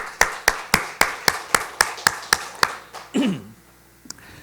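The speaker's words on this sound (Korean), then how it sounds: "우리 격려의 박수 한번 쳐드리겠습니다" A church congregation claps in encouragement at a Sunday service, about a dozen slow, evenly spaced claps in unison, fairly close, before a brief thump and quiet room tone.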